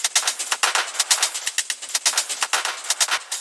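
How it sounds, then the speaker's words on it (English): A punchy drum loop processed through a Portal effect on the drum bus, with the kick drum left out. Rapid, sharp, crackling hits fire in a tight, stuttering rhythm that sounds almost like bursts of gunfire. "what you hear now is the portal on the drum bass"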